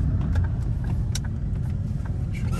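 A full parking lot carries a steady low rumble of car engines and passing traffic, with a few faint clicks and rattles on top.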